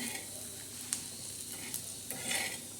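Grated coconut dry-roasting on a tawa for black masala, with a steady soft sizzle, scraping stirs and a few sharp clicks of the spatula against the pan.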